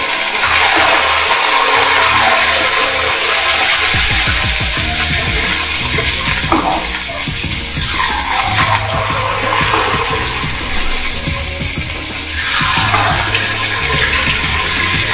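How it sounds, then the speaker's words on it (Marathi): Bhaji fritters of gram-flour batter are dropped one at a time into very hot oil, setting off a loud, continuous, rushing sizzle with bubbling surges, close and without any talk. "आता या तेलामध्ये भजी सोडायची आहे। एक एक करून या भजी गोल आकाराच्या सोडून घ्यायच्या आहेत।"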